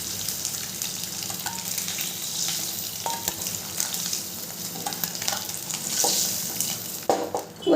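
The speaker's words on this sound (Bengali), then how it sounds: "ডিমগুলোকে নেড়ে চেড়ে লাল করে ভাজা হয়ে গেছে।" Eggs fry in hot oil in a pan while being stirred and turned, a constant sizzle with occasional scraping and clinks of the utensil. It is fairly close and loud, and nobody speaks.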